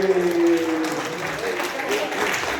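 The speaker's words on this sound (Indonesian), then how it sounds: "Tepuk tangan sekali lagi." An audience of employees at a seminar gives a brief round of applause, steady clapping from many hands over the speaker's talk.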